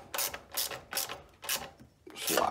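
A ratchet wrench tightens bolts on a Champion 9000 watt generator, giving four or five clicking, grinding strokes in a steady rhythm, close and moderately loud, with a rougher final pull at the end.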